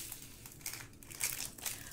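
Small plastic baggies from a diamond painting kit crinkle and rustle up close in several quick, uneven bursts, with no talking.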